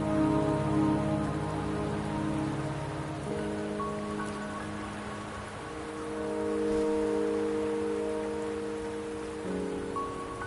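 Steady rain in the video game Wuthering Waves, an even hiss of falling drops under sustained, layered tonal music, with no voices.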